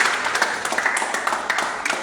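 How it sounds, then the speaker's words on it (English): A crowd applauds at a youth boxing medal presentation for Ghana's African Youth Championships medalists, a steady wash of clapping at moderate loudness with a few individual claps standing out, lasting about two seconds. "Let's clap."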